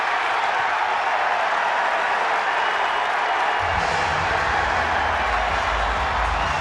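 A ballpark crowd in West Sacramento roars steadily after a strike call at a baseball game, the broad cheering swelling louder midway with deeper rumble as it continues.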